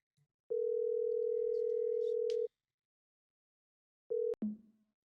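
A loud, steady electronic tone from dialing a phone number in the game Rust holds for about two seconds, then after a pause returns as a brief burst that cuts off into a short fading click.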